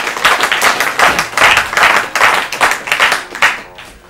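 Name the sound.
audience applause for a quiz contestant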